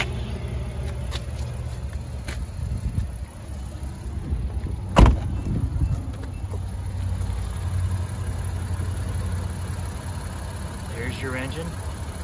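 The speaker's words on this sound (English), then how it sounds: "There's your engine." A 2019 Infiniti Q60 Red Sport 400 coupe's V6 engine idles steadily with a low, smooth hum, joined by a single sharp knock midway and a faint chirp near the end.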